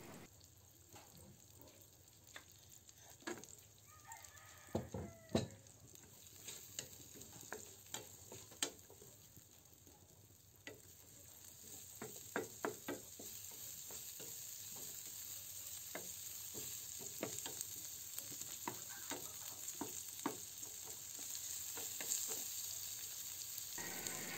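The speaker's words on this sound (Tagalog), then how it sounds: "Lutuin lang natin ang sibuyas at maglagay na rin tayo ng hiniwang bawang." Chopped onion and sliced garlic sautéing in a pan, a continuous sizzle broken by scattered clicks and scrapes of stirring, close and fairly quiet.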